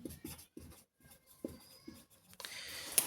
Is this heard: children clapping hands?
no